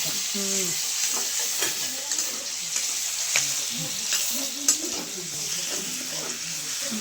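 Saratya leafy greens frying in a pan with garlic, a steady close sizzle with occasional stirring clinks while a voice murmurs in the background.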